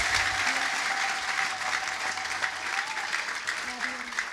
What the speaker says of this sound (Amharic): አጨብጭቡ ለኢየሱስ።